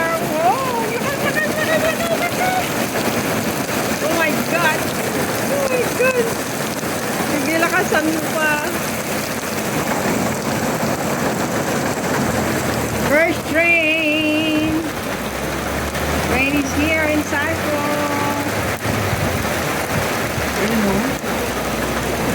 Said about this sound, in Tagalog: Rain, rain, rain is here.